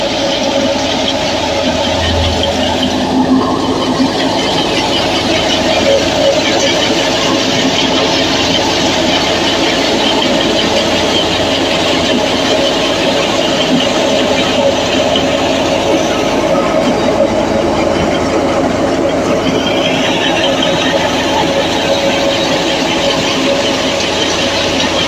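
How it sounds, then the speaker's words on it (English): A tractor's diesel engine drives a white wheat thresher through the PTO, producing a loud, constant mechanical roar and rattle that holds steady throughout with no pauses. "Equipped with a strong diesel engine and high torque output, it delivers continuous power to the thresher through the PTO"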